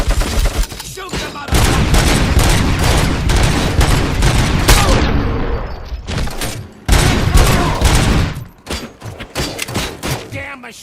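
Heavy, loud gunfire from the video game Robocop Rogue City, a dense continuous fusillade of rapid shots and thuds across the whole stretch, with brief lulls and renewed bursts, shouting voices mixed in.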